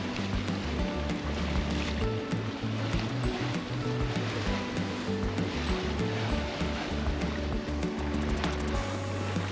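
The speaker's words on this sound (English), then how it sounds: "Those are some good freaking waves behind us." Ocean waves wash steadily behind a sailboat on open water, a continuous rushing surge with low rumbling swells, no voices.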